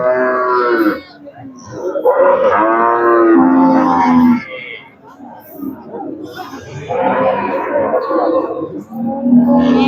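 Cattle at a rural livestock market before Eid sacrifice give several loud, drawn-out moos close by, with crowd murmur and someone talking in between.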